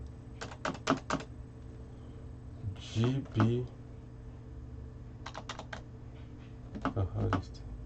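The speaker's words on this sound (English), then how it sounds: "Let me type it so that you see it." Quick bursts of computer keyboard typing as a currency pair is entered for forex trading, clustered taps in several short runs, with someone speaking briefly between them.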